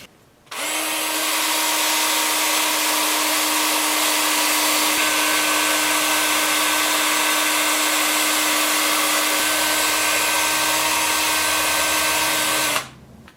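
A wood lathe spins a 10-inch cedar bowl turned from a burned stump while it is sanded, a loud steady whine and hiss starting abruptly and cutting off after about twelve seconds.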